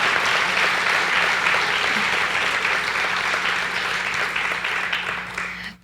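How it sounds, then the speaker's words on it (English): A college audience at a state-of-the-college address claps in sustained, even applause for nearly six seconds, loud and dense, tapering off abruptly at the end. "please allow us to recognize you with applause"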